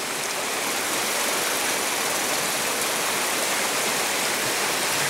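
Stream of flowing water on a walk near a bridge, a continuous even rush and babble heard close and fairly loud for the whole stretch, with no talk over it.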